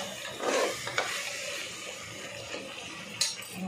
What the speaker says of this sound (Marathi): मसाला पण आपला चांगला मस्त फ्राय होऊन चांगला फ्राय झाला आहे बघा.